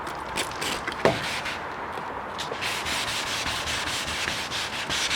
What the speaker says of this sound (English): This is only a very light sanding compared to what we did before.